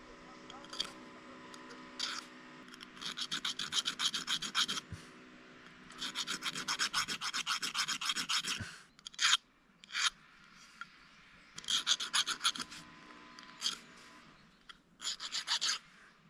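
A hand file rasps across chainsaw chain teeth in repeated short bursts of scraping strokes, close and crisp, with pauses between passes.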